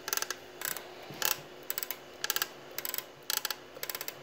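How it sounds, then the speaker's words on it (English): Small spring-loaded toothed ratchet inside a McCord engine lubricator clicking in short bursts of rapid ticks, about a dozen clusters over four seconds, close and crisp with no talk. "And as this thing ratchets back and forth,"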